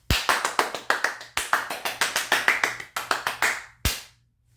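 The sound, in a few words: one person clapping, applauding themself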